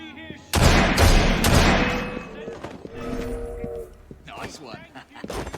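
Pistol shots crack out loudly in Assassin's Creed Syndicate, a quick cluster of sharp bangs at the start followed by scuffling action and shouted voices.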